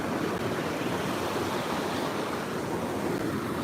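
Steady, full roar of a waterfall pouring into a reservoir, a dense unbroken wash of rushing water with no voices or pauses.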